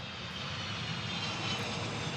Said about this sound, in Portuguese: É barulhento o lugar onde estão. Bom, estamos no aeroporto. Estamos vendo os aviões